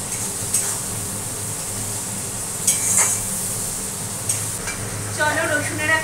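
Ginger, garlic and onion go into a pan with tomatoes that have already cooked down, giving a steady sizzle with scraping stirs and clinks of a utensil against the pan nearby.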